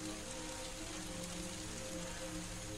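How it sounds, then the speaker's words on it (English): Rain in the video game Damned Scouts, a steady dense patter on surfaces, faint and continuous without pauses. "Why is it raining right there?"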